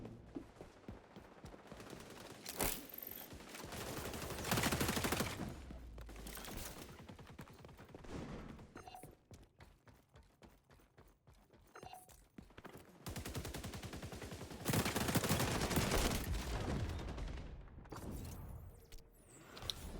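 Repeated bursts of close hip-fire gunfire from XDefiant, loud automatic rattles in several separate volleys with short pauses between them, alongside footsteps and other game noise.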